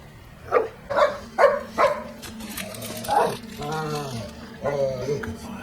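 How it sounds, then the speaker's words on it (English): A dog barking during a film scene, with four evenly spaced loud barks followed by further calls and a longer whining tone, mixed with voices and soundtrack. "Don't hurt that dog."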